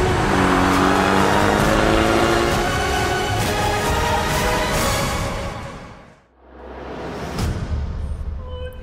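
A 2014 Volkswagen Polo R rally car roars past at speed, its engine loud and rising before fading and dipping, then surging back as it revs again, with no voices.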